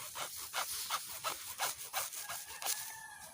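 A plumbing hose is cut with a sawing, rubbing stroke, each pass giving a faint scrape in a quick, steady back-and-forth rhythm, close by with no voices.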